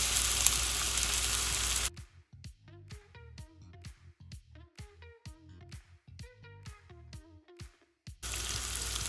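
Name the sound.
potatoes frying in sunflower oil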